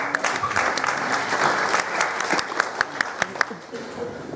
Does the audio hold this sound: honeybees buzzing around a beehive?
no